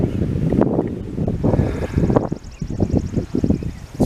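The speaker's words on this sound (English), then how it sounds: "it's pretty windy." Strong outdoor wind buffets the microphone in loud, irregular gusts and rumbling bursts throughout, alone without speech.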